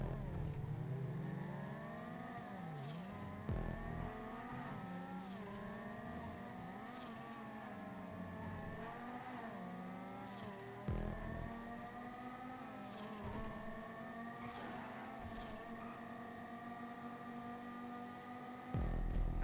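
A Banshee GTS race car engine in a GTA race drones loudly and steadily, its pitch sweeping up and down through gear changes and revving with a few brief breaks, with no talk over it.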